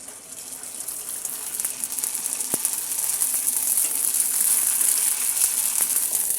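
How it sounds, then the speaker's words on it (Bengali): Raw fuchka puri shells dropped into hot oil make a continuous, fairly loud hissing sizzle that builds slightly, with one sharp pop partway through. "আমার এদিকে ফুচকাগুলো ভাজা হচ্ছে। আমি এখানে কাঁচা ফুচকাগুলো এভাবে গরম তেলের মধ্যে একে একে দিয়ে দিচ্ছি।"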